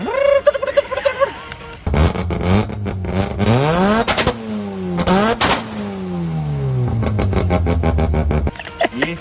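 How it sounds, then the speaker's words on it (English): A nearby car engine rumbles and revs repeatedly with rising and falling sweeps, loud and close, and it briefly cuts out between bursts. "Hope you can hear that rumbling noise. This is like a RX-7."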